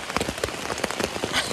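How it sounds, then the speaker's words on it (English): Heavy rain pours onto a backpacking tent at night in Big Ridge State Park, a dense, steady patter of drops with no one talking. "It's still raining."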